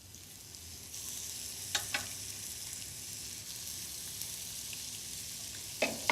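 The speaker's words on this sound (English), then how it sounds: "I'm going to actually put the oil on the beef burgers. This way, the burgers won't stick and the oil won't burn." Beef burgers fry in oil in a pan, giving a soft, steady sizzle throughout with a few brief clinks and scrapes of a utensil, quiet and close with no speech.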